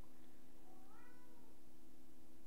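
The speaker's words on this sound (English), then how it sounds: "My cat Max, he is talking right now" A cat meows once, a drawn-out rising-and-falling call over a constant low hum, close and clear.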